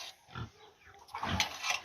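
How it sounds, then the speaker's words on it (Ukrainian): A sow and her nursing piglets grunt softly in a home pig pen, low muffled grunts rising in a couple of quiet bursts, with no talk. "Поросятка кушають молочком."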